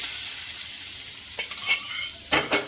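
Hot oil tempering is poured over tomato chutney and stirred in, giving a broad steady sizzle with a few brief louder bursts near the end, close and without speech.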